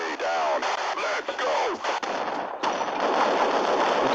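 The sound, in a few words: shotgun fire in the video game Half-Life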